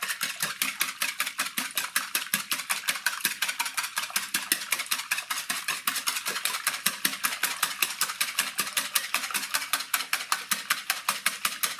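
Free-range eggs are whisked briskly in a bowl, the whisk clicking against the sides in a fast, even, rapid-fire rhythm that carries on steadily and close up throughout.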